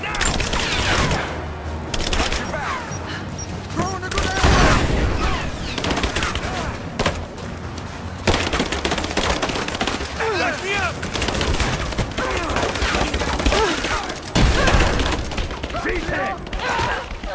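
Dense gunfire and overlapping shots in the Rise of the Tomb Raider video game, loud and continuous for the whole stretch, with heavy bursts and a few brief gaps, close and busy.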